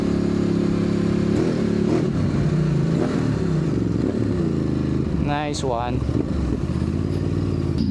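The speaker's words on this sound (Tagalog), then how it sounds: "nagtetest tayo ng motor" Ducati DesertX adventure motorcycle ridden off-road at an adventure camp, its engine droning steadily with revs rising and falling throughout, while someone speaks briefly over it.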